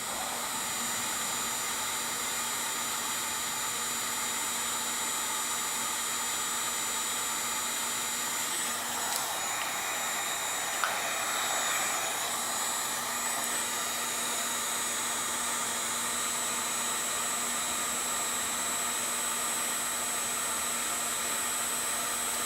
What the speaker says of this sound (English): here is wire number one with our solder heat shrink connector and a heat gun. And the heat gun's blowing on it there.